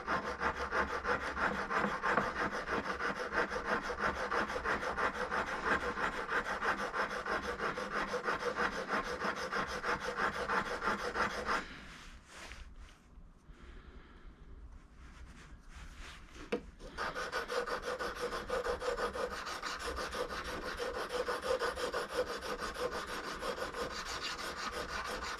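Cheap freight chisels scrape dry across a whetstone with no lubricant, a rapid continuous rasping stroke that stops for a few seconds midway, then resumes just as briskly and close.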